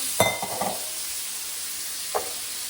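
Frozen shrimp hit a hot pan, giving a few sharp sizzling bursts with quiet stirring between them and a brief late crackle.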